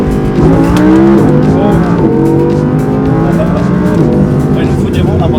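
A Lamborghini accelerates hard from 0 to 100 with a loud, rising engine roar, the pitch climbing through quick gear shifts, heard close from inside with a voice speaking over it.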